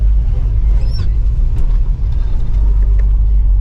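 A 1969 Chevelle Yenko tribute cruises down the road with a loud, deep engine rumble and steady low drone, heard from inside the car with faint road noise over it.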